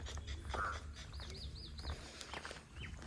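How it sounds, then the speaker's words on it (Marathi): Small birds chirp and tweet in short repeated bursts, a few rising whistled calls standing out over a low outdoor background in a Konkan village. "इथे का पक्ष्यांचा आवाज येते"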